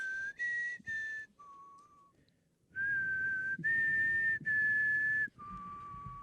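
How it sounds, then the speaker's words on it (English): A person whistles a melody in clear, sustained tones, alone and close, in phrases of held notes separated by brief pauses. "amazing whistle thing"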